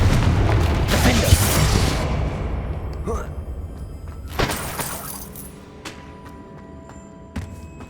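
Spell blasts from Hogwarts Legacy gameplay, a Confringo fire spell among them: loud booming, shattering bursts at the start, then sharper cracks and impacts spaced out over several seconds as the din fades.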